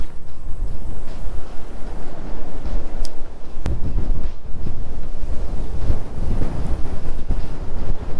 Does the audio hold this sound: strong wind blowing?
yes